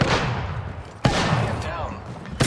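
Gunfire from enemy players in Apex Legends: a few sharp, loud shot impacts spaced over a couple of seconds, with a voice talking over the rumbling game action.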